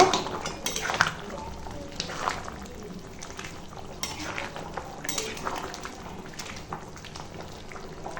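Garam masala powder stirred into a thin mutton and potato curry in a pot, a spoon scraping and clinking against the metal over a soft bubbling simmer, several sharper knocks early on.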